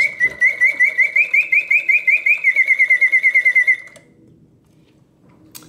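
An antique 1930s singing bird cage automaton gives a close, loud mechanical whistle that trills and warbles in a steady pulsing rhythm for several seconds. It then stops abruptly, leaving a faint mechanical whir.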